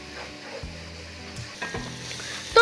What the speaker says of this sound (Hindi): मसाला हमारा भुन चुका है बहुत ही अच्छे तरीके से